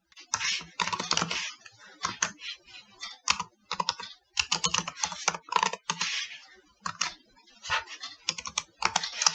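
Fingers type on a computer keyboard in quick bursts of clicky keystrokes with short pauses between, close and alone.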